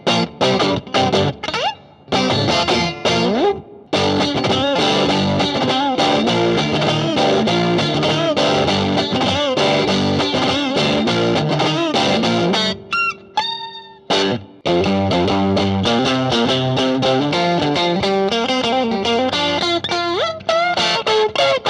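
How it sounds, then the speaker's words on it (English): A vintage 1964 Gibson Melody Maker with custom P90 pickups plays a loud, distorted garage-rock part with high gain and reverb, with sustained chords and riffs, short breaks and a squealing bend midway. "I've turned up the gain and the reverb, now we're in garage territory."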